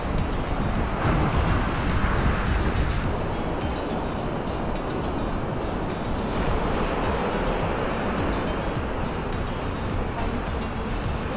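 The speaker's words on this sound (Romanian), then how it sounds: "Uitați aici, marea," Sea waves wash onto the shore at Larnaca, Cyprus, a steady broadband roar mixed with wind buffeting the microphone, continuous and fairly loud throughout, with no clear talking.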